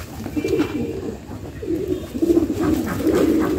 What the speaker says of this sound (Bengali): এটা আসলে বাচ্চা, পি পি করে এখনো।